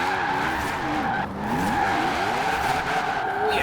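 Drifting V8 Rocket Bunny MX5 in Forza Horizon 4 around Ambleside, with steady loud tire squeal and a continuous engine drone whose pitch sweeps up and down through the slides, heard alone.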